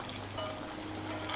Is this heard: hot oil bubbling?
yes